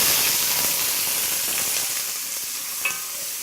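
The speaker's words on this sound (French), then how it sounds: "Tu fais roussir des oignons, c'est vraiment une base incontournable" Onions fry in hot oil with a bright, continuous sizzle that eases slightly in intensity, a small clack of a utensil near the end, no voices.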